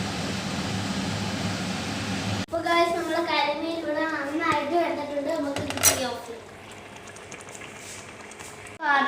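A clay pot of pearl spot fish curry is swirled, the pot clattering and scraping near, while voices, including a child's, talk over much of it.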